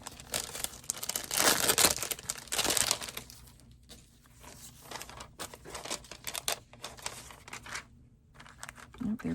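Paper embellishments are handled up close at a craft table, giving bursts of dry crinkling and rustling that come and go in uneven clusters, loudest early on, with quiet gaps between.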